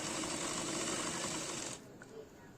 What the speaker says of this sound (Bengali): দেখুন এবার সেলাই করব।